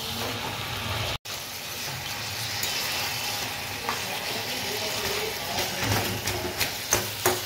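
Fish-head curry being stirred in a pan, a steady soft sizzle with faint scraping and occasional clinks of the spoon against the pan.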